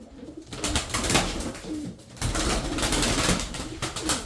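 Tumbler pigeons in a loft of roughly 35 birds coo repeatedly in low, rolling calls that overlap close by, with constant rustling and no voices.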